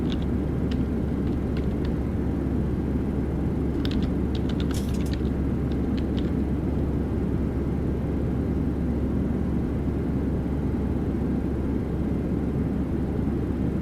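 Boeing 737-800 climbing in the X-Plane flight simulator, a steady, loud low engine drone and rumble that holds unchanged throughout, with a few faint high clicks near the middle.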